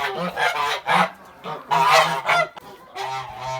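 Kholmogory geese honking near a nest in a farmyard, several loud repeated nasal calls in short bursts with brief pauses, no talk.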